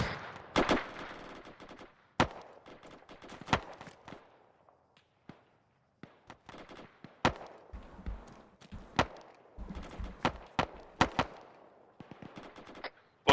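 Gunfire in the Arma 3 military game, with sharp single shots and short bursts cracking out irregularly across a tense stretch, some loud and close, others fainter, between quiet gaps.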